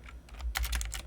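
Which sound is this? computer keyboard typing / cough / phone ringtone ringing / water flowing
computer keyboard typing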